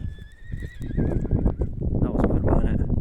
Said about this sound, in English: I just said that and a horse did that.